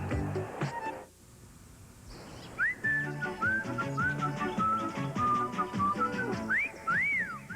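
Whistled jingle from an Irish Spring soap commercial, a bright melodic tune of rising and falling notes over soft background music, clear and close with no talking.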